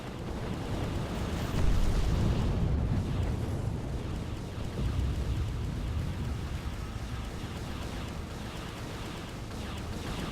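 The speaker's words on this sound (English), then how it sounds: "As you can see, they have their own custom cannon effect." Goa'uld ship cannon fire in the Stargate Invasion space game forms a continuous rumbling, roaring wash of blasts, dense and noisy with a swell near the start, steady throughout without talk.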